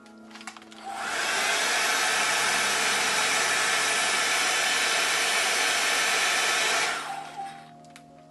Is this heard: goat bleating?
no